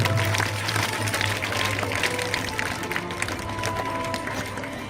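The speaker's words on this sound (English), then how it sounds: "Children, give a huge round of applause for the winners here." Schoolchildren applaud the winners at a school investiture ceremony, a broad wash of clapping and crowd noise over a low steady hum, even and moderately loud, easing slightly toward the end.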